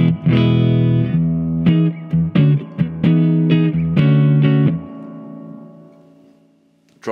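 An electric guitar plays through a Harley Benton HB-20R amplifier with the middle control maxed, giving loud, distorted sustained chords and short choppy stabs up close that ring out and fade at the end.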